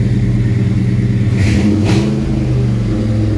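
A 1968 truck engine runs loud and close at a steady idle-to-rev roar, with a brief rise in pitch partway through before settling back, alone with no talk.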